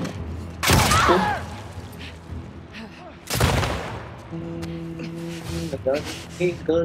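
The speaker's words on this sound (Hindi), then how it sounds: "गोलियां चलाए जा रहा हूँ" Video game gunfire: two loud sharp bursts of shots in the first half, with a steady tonal hum and game sounds continuing afterward.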